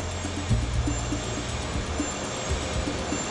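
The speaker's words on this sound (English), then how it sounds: "McAdoo compares the sound of his test flight to the engine noise captured during Flight 90's takeoff." Jet engine roar from Flight 90's takeoff, a steady broadband drone with low rumbling bands and occasional faint thumps, continuous and fairly loud with no talk.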